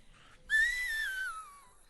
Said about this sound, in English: So enjoy these last little whistles.